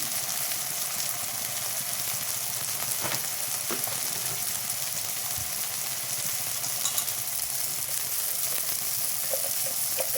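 Tomato paste and spices cook down in a pan with a soft, continuous sizzle and faint stirring, close by and moderately quiet, with no voices.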